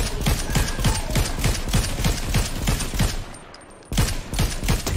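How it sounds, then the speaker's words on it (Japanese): Rapid gunfire from a Fortnite match during a duo cash cup final, dense bursts of shots in quick rhythm, close and loud, with a brief lull before firing resumes. "こっちから銃声聞こえたわ"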